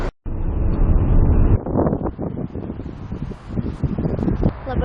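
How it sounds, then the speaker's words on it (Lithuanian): Strong outdoor wind buffets the microphone on a sunny day, a loud, rumbling roar that surges and dips unevenly throughout. "Labai didelis vėjas"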